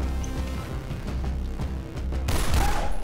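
Gunfire in the Battlefield 3 video game: a dense rumbling burst of game combat sound, loud throughout with a sharper crack near the end.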